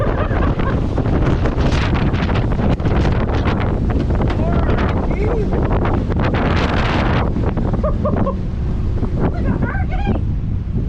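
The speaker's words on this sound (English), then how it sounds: "Why don't that wind feel nice after being in 30 degrees for 2 or 3 days?" Strong wind gusting around a cabin, a loud continuous roaring buffet with heavy microphone rumble that never lets up.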